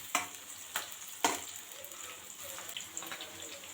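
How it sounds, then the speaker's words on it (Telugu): Chopped capsicum tossed into hot oil in a pan for egg fried rice, a light, continuous sizzle broken by a few sharp knocks of a spoon stirring against the pan. "ఇప్పుడు క్యాప్సికమ్ కూడా వేసేసుకుంటున్నాను"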